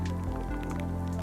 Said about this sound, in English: Here comes the heavy rain.